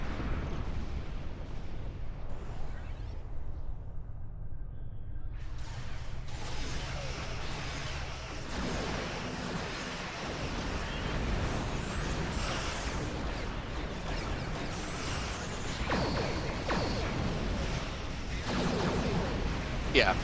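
Continuous rumbling blasts and booms from exploding enemies in Star Trek Online combat, dense and overlapping across the whole stretch with steady loud intensity and some mechanical clatter mixed in.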